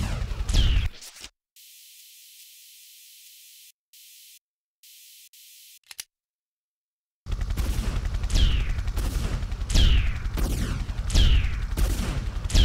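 Gunfire at a boss in Tomb Raider 3, a short noisy burst followed by a hissing static-like stretch and silence, then a long run of loud, rhythmic repeated shots with sharp sweeping tails.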